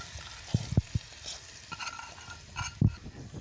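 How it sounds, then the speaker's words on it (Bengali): Potatoes being stirred into browned onions and fried in a pan for singara filling, a soft sizzle under several sharp spoon knocks and scrapes against the pan, close, with no talk. "তারপর এভাবে নেড়ে চেড়ে দিতে হবে।"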